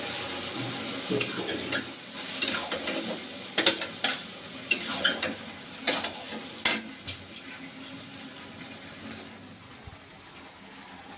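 Ridge gourd cooking with poppy seed paste in a pan, stirred with a utensil that scrapes and clinks against the metal in repeated irregular strokes under a faint sizzle.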